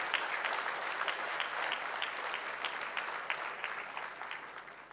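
An audience applauds during the inauguration and award ceremony of a conference, a dense, steady wash of many clapping hands that sounds somewhat distant and soft, continuing for about five seconds with no voices.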